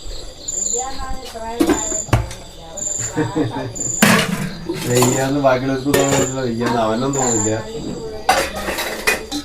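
Dishes and cutlery clinking and clattering at a sink while washing pots after making noodles, with several sharp clanks. Voices talk throughout, and a faint high insect-like chirp repeats in the background.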